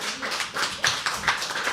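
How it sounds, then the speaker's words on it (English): Audience applause after a poem reading at the Habitat: brisk, scattered clapping from a small gathering, close and moderately loud, with individual claps standing out over a steady patter. "I think we can give a louder applause"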